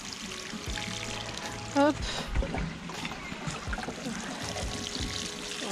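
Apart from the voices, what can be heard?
watering newly planted autumn planters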